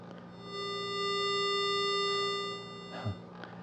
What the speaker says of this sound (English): That's the sound of a 400 hertz square wave.